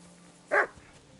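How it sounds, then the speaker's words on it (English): A single short dog bark from the medieval role-playing game Kingdom Come Deliverance 2, sounding a little distant and standing alone over a quiet background. "Barking. It's coming from over there."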